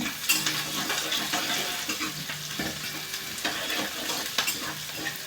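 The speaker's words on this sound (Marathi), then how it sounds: "कांदा मध्ये मध्ये परतत राहायचा आहे," Onion and green chili stir-fried in a pan over a high gas flame for a Marathi bhaji, with a steady close sizzle and frequent scraping, clattering stirs throughout.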